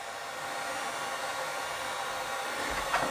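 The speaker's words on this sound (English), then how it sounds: "my Harbor Freight heat gun, aluminum transfers heat very well, so I'm just going to kind of heat it up right through" A Harbor Freight heat gun blows onto the aluminum bezel of a Vostok watch to loosen the glue, giving a steady, close airy whoosh that holds an even level throughout.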